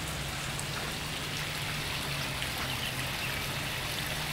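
Water trickling and splashing steadily from a pondless waterfall feature fed by collected rainwater into a 500-gallon basin beside a paver patio, a continuous even rush with a low hum beneath, close and alone.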